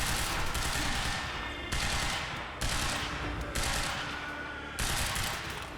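Sustained automatic gunfire from the video game Quantum Break, loud dense bursts in four or five long stretches separated by brief gaps, with no talking over it.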